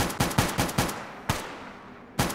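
Gunfire in the video game Fallout: Tale of Two Wastelands: a quick burst of sharp shots followed by a pause and two more isolated cracks, moderately loud and without talk.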